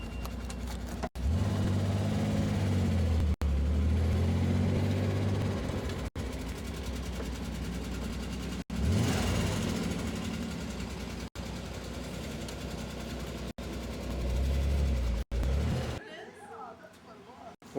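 A Chevrolet Corvair drives along with a steady mid-range engine drone and occasional gear-change dips, heard from inside the car while people talk over it.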